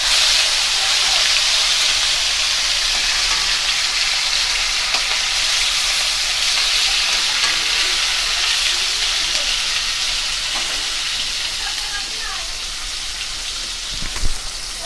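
Puti fish frying in hot oil in a pan, a steady dense sizzle that holds loud and constant throughout with a brief sharper crackle near the end.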